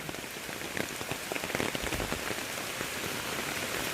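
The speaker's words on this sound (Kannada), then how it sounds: "ಆದರೆ ಮಳೆ ಯಾಕೋ ಸಿಕ್ಕಾಪಟ್ಟೆ ಜೋರಾಗ್ತಾ ಇದೆ ಇನ್ನು." Heavy rain pours near Goyar Falls, a forest waterfall outside Karwar, a dense, loud, continuous patter of drops striking surfaces with no voices.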